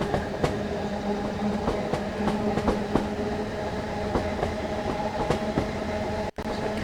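A Jubilee steam locomotive running in Train Sim World 5, with a loud continuous rolling rumble and regular clickety-clack of wheels over rail joints, steady throughout and briefly cutting out near the end.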